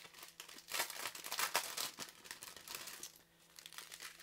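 Plastic diamond painting packaging crinkles and crackles steadily as it is pulled open, a close, continuous rustling with sharper tearing bursts throughout, without any talking.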